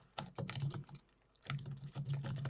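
Quick clattering keystrokes on a computer keyboard while a blog post is typed, close and steady, in two bursts separated by a short pause.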